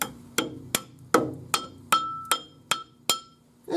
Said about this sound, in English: Just take a hammer, soft-headed hammer